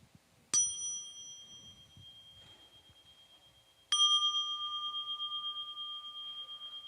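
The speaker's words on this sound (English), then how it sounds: "And you hold the bell like that." A small hand bell is rung twice during a Buddhist dharma talk retreat, each strike a bright clear ding that rings on and slowly fades, the second strike sustaining to the end.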